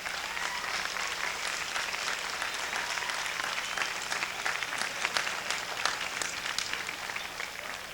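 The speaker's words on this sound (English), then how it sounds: "let's give a big round of applause to these platform and special guests" Sustained applause from a large audience at a 1998 Ramapo College graduation ceremony, dense, steady clapping that fills the whole stretch at an even level, with no voices breaking through.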